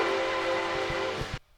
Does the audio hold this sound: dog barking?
no